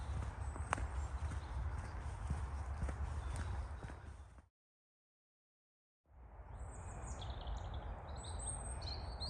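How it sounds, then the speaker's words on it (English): Birds chirp and sing in woodland beside a big walking path, layered over a steady low rumble of distant motorway traffic and crunching footsteps, with a brief gap of silence midway. "all you can hear are the birds and a bit of traffic"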